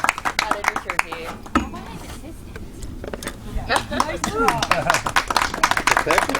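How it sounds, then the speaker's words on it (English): A small audience at a learn-to-hunt program gives a round of applause, with scattered sharp claps at first that grow into fuller clapping mixed with chatter and voices. "can we give Jimmy a round of applause?"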